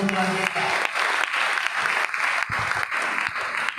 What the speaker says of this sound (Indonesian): Boleh tepuk tangan untuk Tuhan kita